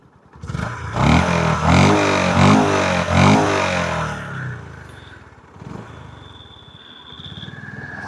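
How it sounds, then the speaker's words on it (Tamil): A 2025 Honda CB350 Special Edition motorcycle engine revs up hard with a few pulsing throttle blips, then settles into a lower idle rumble with a faint whine. "நான் ஒரு தடவை எக்ஸாஸ்ட் நோட் கேட்டுறீங்களா?"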